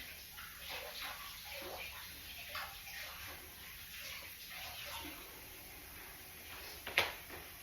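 Vegetables for soup stock are rinsed in running water, a steady splashing and trickling wash with light knocks and a sharp clatter near the end, fairly close and without talk.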